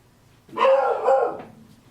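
A dog gives a single drawn-out bark or yelping howl lasting about a second, close and loud, standing alone against a quiet room with no talking.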